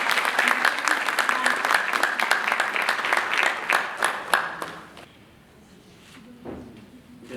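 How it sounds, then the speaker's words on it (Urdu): An audience at a South Asian forum event applauds to welcome a speaker to the stage, with dense clapping for about five seconds before it fades to a quiet room with a few scattered sounds. "بھرپور تالیوں کے ساتھ استقبال کیجیے۔"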